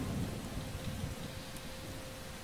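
Rain falls in the video game Starbound, a soft, steady hiss and patter with low rumbling, faint and continuous with no voices.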